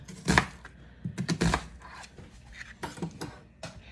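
An onion is chopped into pieces on a board, with a few quick, close knife strikes in short irregular bursts and small pauses between them.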